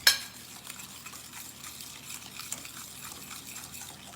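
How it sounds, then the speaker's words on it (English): Batter for a chocolate fudge pie being stirred by hand as sifted flour is worked in, a soft, steady scraping and swishing in a bowl, close and fairly quiet, with no talking. "Just stirring that around, mixing it all together really, really well."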